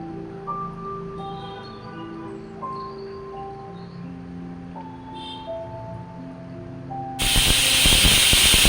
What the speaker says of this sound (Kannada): 3ರಿಂದ 4 ಪ್ರೆಷರ್ ಕೂಗಿಸ್ಕೋಬೇಕು.